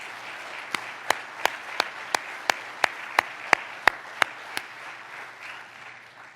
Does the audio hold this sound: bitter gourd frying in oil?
no